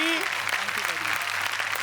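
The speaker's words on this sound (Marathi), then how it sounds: "जोरदार टाळ्या त्यांच्यासाठी" A studio audience at the Marathi comedy show Chala Hawa Yeu Dya breaks into applause, a dense burst of clapping that starts under a brief voice and fills the short moment.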